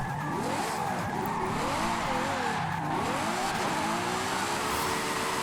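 A Ferrari J50 is driven hard in Forza Horizon 5, its engine note rising and falling with revs as tires squeal and skid, sounding loud, close and continuous throughout.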